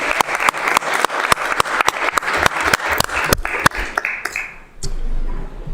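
Applause at a city council meeting, several people clapping in a sharp, fairly close patter that thins out and stops after about four seconds, followed by quiet room noise.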